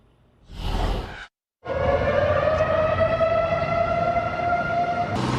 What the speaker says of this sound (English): Tornado sirens echoing through many communities the past 48 hours.